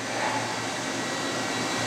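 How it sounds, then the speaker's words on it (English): A Clausing Storm 1020SF vertical machining center's milling spindle runs at 2000 RPM, giving a steady, even mechanical whir with a low hum that holds at a constant level throughout, with no talking. "Right now we're showing the spindle turning 2000 RPM."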